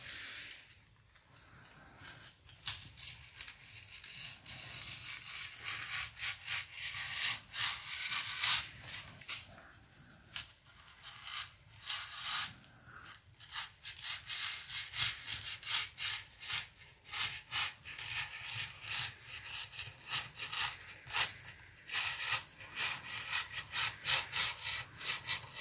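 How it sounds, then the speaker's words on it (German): Hand saw cutting through a Mandalorian helmet, steady rasping back-and-forth strokes in a continuous rhythm, close and fairly loud with no talk. "Jetzt lege ich nochmal hier unten los und säge nochmal das ganze Ding bis da oben hin durch."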